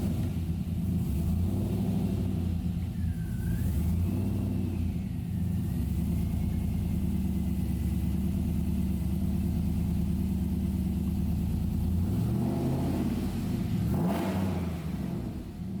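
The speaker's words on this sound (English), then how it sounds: "when you're going down the freeway or you give it a rev" Toyota Land Cruiser with a swapped 6-litre LS V8 sits at a deep, steady idle, then the engine is revved twice, near the end and around the start, rising and falling loudly before settling back to a low rumble.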